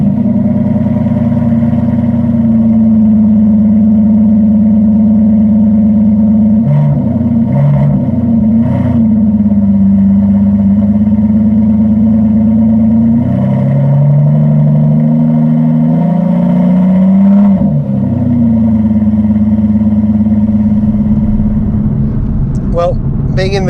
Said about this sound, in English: Being in the company of Aston Martin was quite something, and so is the sound of this car.